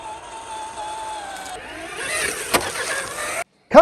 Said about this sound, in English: Mud is not problem for these wheels and this truck.